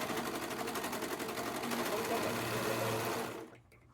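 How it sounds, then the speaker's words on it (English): A serger stitches fabric tissue holders in a fast, loud, steady mechanical chatter that runs continuously before winding down abruptly near the end. "the serger is the best thing since sliced bread"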